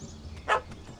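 A puppy in The Witcher 3 gives a single short yappy bark, moderately close, sitting above a quiet ambient game background.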